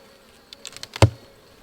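Honeybees fly close by at a hive entrance, giving a short buzzing pass that swells to one loud close drone before fading.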